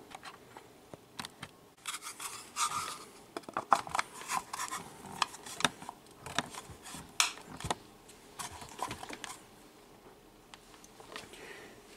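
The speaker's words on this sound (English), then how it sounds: "File a bit, test on the magazine, test it on file some more." A file works on a plastic PMAG 10 magazine catch, producing short scraping strokes and small clicks in irregular bursts, close but faint, with no one talking.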